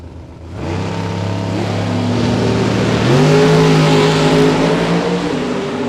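Drag race cars launch at a bracket race, including a Chevette, with engines rising from a deep idle into a loud, building roar that climbs in pitch as they accelerate away together.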